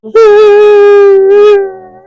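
A person's voice imitates a dog howling, one long loud sustained tonal howl with a slight waver that fades out at the end, close to the microphone and alone.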